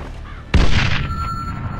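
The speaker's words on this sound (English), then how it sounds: "Incoming missile!" An incoming missile explodes in the video game Sniper Ghost Warrior 2, a sudden close boom that cuts in sharply and then trails off into a long rumbling roar with a faint lingering whine.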